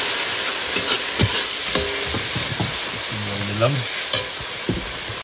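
Water hits spiced desi chicken masala sizzling in a pan while cooking beside a Sundarbans river. A loud, steady frying hiss runs throughout, with scraping stirs and a brief voice speaking over it.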